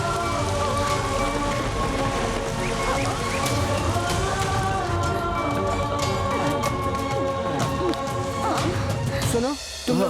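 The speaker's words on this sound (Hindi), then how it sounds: "ये बारिश कैसे हो रही?" Heavy rain pours down steadily in a dark horror scene, a dense close hiss of drops drumming on surfaces throughout, with people talking over it and a brief muffled break near the end.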